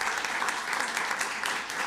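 Sustained applause from an audience at a State Board of Education meeting honoring award winners, steady and fairly close, filling the whole moment with a brief murmur of voices underneath.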